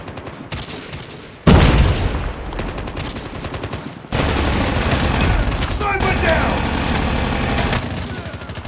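A frag grenade detonating in Call of Duty Mobile's Crossfire map amid a firefight: a sudden heavy boom, then a dense rolling rattle of gunfire, with shouted callouts mixed in.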